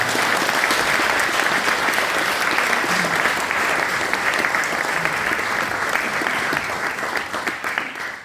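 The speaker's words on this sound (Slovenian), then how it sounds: "mislim, da še en aplavz za to zasluži" A hall audience at a 30th-anniversary celebration of the Konovski Štrajharji group from Velenje applauds steadily, continuous massed clapping that holds evenly before thinning slightly near the end.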